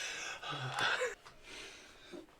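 A person yawns with a breathy, gasping inhale followed by a softer exhale, close and fairly quiet, with no talking.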